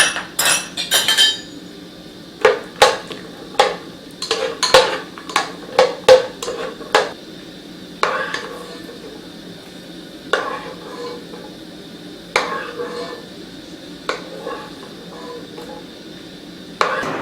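A cup of cashew nuts fries in about 100 ml of hot ghee in a pan for Onam payasam, a faint sizzle under repeated sharp metallic clinks and scrapes of a spoon stirring against the pan, irregular and close.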